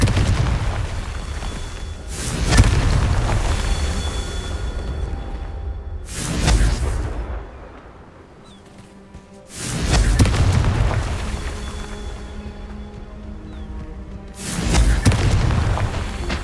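Confringo explosion spells cast in Hogwarts Legacy, with several heavy booming blasts, each a loud broadband burst that decays over a few seconds, separated by quieter game ambience.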